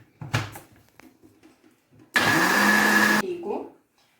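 A kitchen blender whirring at high speed for about a second as it mixes homemade pizza batter of milk, salt and seasoning, loud and steady before winding down, with someone talking just before it starts.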